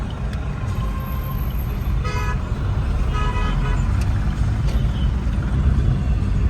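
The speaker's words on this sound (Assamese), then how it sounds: "আৰু এইফালে চাওক গাড়ীবিলাক ভিৰ জাম হৈ আছে।" In a traffic jam near Puri, a few short car horn toots sound at moderate distance over a steady, low rumble of vehicles.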